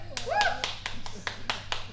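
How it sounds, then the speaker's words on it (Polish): Applause at a Murph fitness test presentation, a steady series of close handclaps about four per second, with voices talking over them. "powtórzę wielkie brawa dla Szymona"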